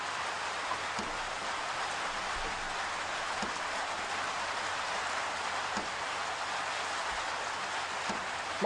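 Rain falls on an open safari vehicle during a sunrise game drive, a uniform close wash of drizzle that holds steady with faint scattered taps and no voices.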